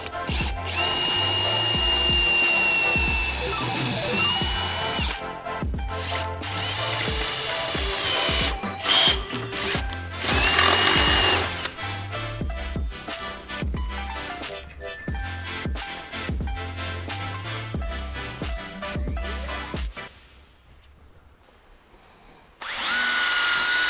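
A power drill widens the holes in a plastic fan housing on a car-build project, whirring in loud bursts that start, stop and rev across the clip before a short quiet gap and a final burst.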